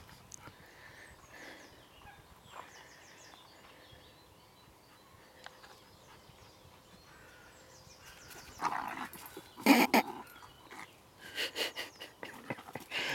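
A dog pants and moves about beside a lake during a carp fishing session at St Ives. Quiet rustling comes first, then closer, louder bursts of panting and movement over the last few seconds.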